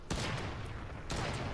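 Two sharp bursts of soldiers' gunfire in a war video game crack out in quick succession, loud and close over a dense background of battle noise.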